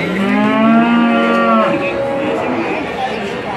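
One of a pair of Belgian Blue cattle at a market gives a loud, long, close moo that rises and then breaks off, with faint market noise behind it.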